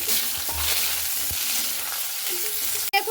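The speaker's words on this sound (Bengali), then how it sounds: "বেগুনটাকে আমি খুব ভালো করে ভেজে নেব।" Eggplant pieces fry in hot oil in a pan, a loud, steady, close sizzle with occasional soft stirring knocks and no voices.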